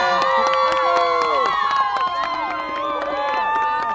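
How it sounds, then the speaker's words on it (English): A crowd of football fans gathered at an airport cheers and shouts loudly and continuously, with overlapping excited voices and whoops close by. "We can hear the fans there behind you."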